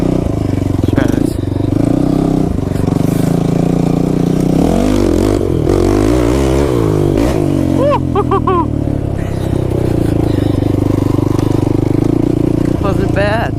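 Kawasaki KFX 450R quad engine revving hard in first and then second gear on a dirt track, a loud continuous drone with rising and falling pitch sweeps and a voice talking over it.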